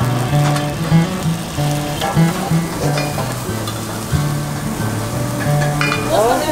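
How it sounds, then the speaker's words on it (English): Sweet banana slices coated in rava, chili powder and salt shallow-fry in a pan with a steady, bright sizzle and crackle, joined by occasional stirring clinks and scrapes. "Rava chili powder and then salt, shallow fry."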